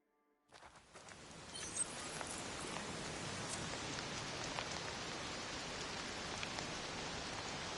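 Rain falling in the video game Horizon Forbidden West, a dense steady hiss of downpour that swells in after a brief quiet start and holds evenly, close and enveloping, with no talking.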